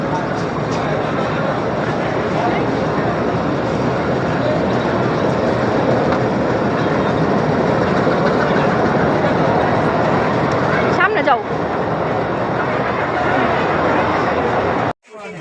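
A train rumbles continuously on the rails near Narayanganj, a loud, steady broadband roar of running wagons that holds for about fifteen seconds before cutting off abruptly.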